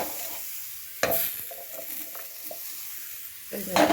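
Chopped broccoli drops into a hot pan, producing a sudden burst of sizzle, then soft scraping stirs over a low frying hiss, with another loud sizzling clatter at the end.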